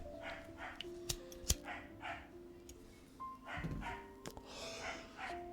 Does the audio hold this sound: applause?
no